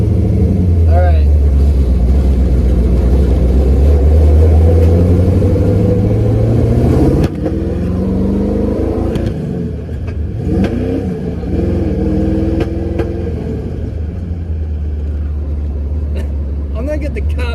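A Mustang being built as a vintage-inspired race car rolls down the street in neutral with a weak shifter, its loud engine revving up and then dropping back into a rough, rumbling idle.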